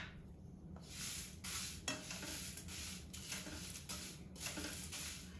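Cornflakes roasting in a dry pan for homemade muesli, stirred with a utensil: a soft continuous rustling crackle with repeated scraping strokes, close and fairly quiet, no voices.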